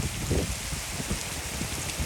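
Heavy rain pours down during a storm, making a dense, continuous hiss with the patter of drops hitting surfaces and no voices.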